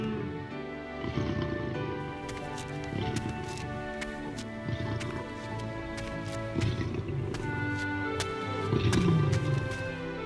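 Cartoon lions growl and roar in a den, with several deep rumbling roars rising and falling over about ten seconds beside sharp clicks, fairly loud and without talk.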